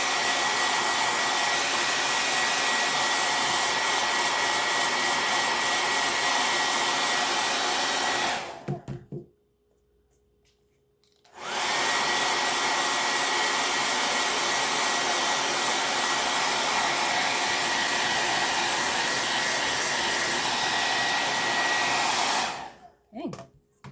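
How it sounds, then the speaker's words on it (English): A hair dryer blows steadily and loudly on chalk paint over a tray, then cuts off for about three seconds and runs again until it switches off near the end. No one speaks. "I'm going to blow dry it."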